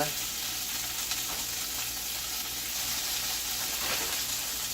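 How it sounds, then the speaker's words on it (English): Callaloo greens go into a preheated pot with a little olive oil and set off a loud, steady sizzle of frying that holds evenly throughout, close and with no talk over it. "The pot's already preheated with a little bit of olive oil. And I'm just going to dump it in."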